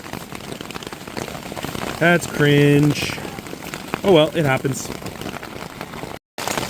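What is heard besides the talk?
hail falling during a storm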